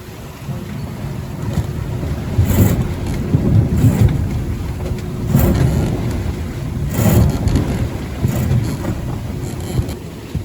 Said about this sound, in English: Just reefing in the Genoa.